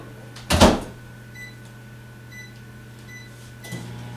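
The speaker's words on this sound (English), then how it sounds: "I'm going to put some in the microwave and get these cooking just a little bit" A microwave oven hums steadily while heating apples, with a sharp clunk of the door or button at the start and a softer knock near the end.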